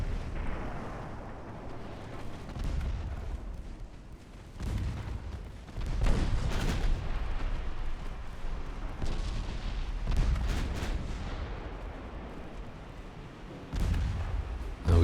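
Secondary guns on a warship fire in a naval combat game set in 1905, with repeated deep booms and rumbling blasts rolling at irregular intervals over a continuous low battle roar, with no talk.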